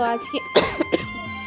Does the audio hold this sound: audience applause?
no